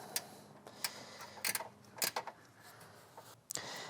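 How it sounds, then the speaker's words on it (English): A bottom bolt snugged up on the intake bracket of a 2015-2021 Subaru WRX with an FA20 engine, heard as a few sparse, close mechanical clicks and ticks of a tool over a quiet background. "I'm going to go back and snug up this bottom bolt"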